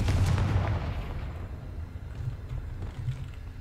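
A Confringo fire spell explodes in the game Hogwarts Legacy, a loud low boom at the start that rolls into a rumbling decay, with smaller thuds following.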